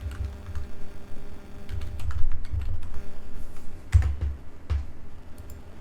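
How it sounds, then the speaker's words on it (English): Keys clatter on a computer keyboard in a quiet room during work in Maya animation software, with a run of uneven, close clicks and brief pauses between bursts. "Okay, so we have to type it."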